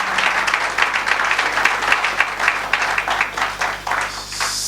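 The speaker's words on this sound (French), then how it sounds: "Je vous prie de l'applaudir." Audience applause at a reception for the newly elected governor of Mai-Ndombe province, a dense steady patter of many hands clapping close by, sustained throughout with a slight fade near the end.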